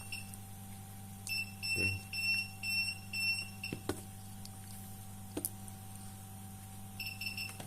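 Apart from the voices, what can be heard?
bench power supply beeping in protection mode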